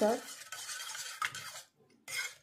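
A pot of urad dal amti, a thick Maharashtrian lentil curry, being stirred and mashed with a utensil: close, steady scraping strokes that stop briefly and then resume.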